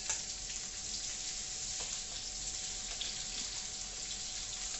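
Onions sautéing in a pan for Thai pad see ew chicken noodles, a steady, soft sizzle that hisses evenly throughout with no talk over it.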